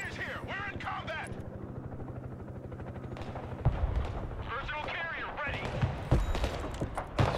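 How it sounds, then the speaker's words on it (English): Rapid gunfire and heavy artillery blasts hammer troops in the Broken Arrow war game, with a helicopter-like engine drone running underneath and sharp explosive thumps landing near the end, mixed with faint voices. "Fired on those troops right there."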